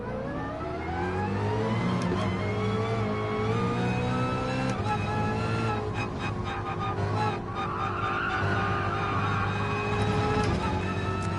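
Ford Mustang GT3 race car in Gran Turismo, its engine whining in strong harmonic tones that climb and drop through gear changes, with tyre squeal and skidding over a continuous loud roar and no voices.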